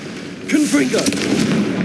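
A voice shouts a spell, then a sharp, loud blast follows as the Confringo blasting spell explodes in the Hogwarts Legacy video game, leaving a brief rumbling tail.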